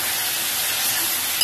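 Chopped vegetables dropped into hot oil in a pan with turmeric, giving a steady, close, dense sizzle and hiss that holds evenly for a moment with no voices.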